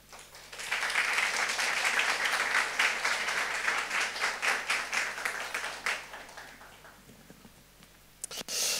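Church congregation at a Sunday worship service in Ho Chi Minh City applauding to welcome a pastor to the front, steady dense clapping that thins and fades near the end, with a few louder close claps at the finish.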